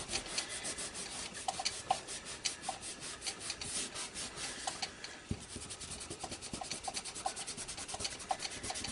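Acrylic paint being rubbed off a mixed media background in a resist technique, a steady close scrubbing friction with small intermittent squeaks, continuing alone without talk.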